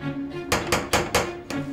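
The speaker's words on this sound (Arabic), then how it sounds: "عزم افتح الباب." Four sharp, evenly spaced knocks land on a door, loud and close, over a faint steady hum in an indoor room.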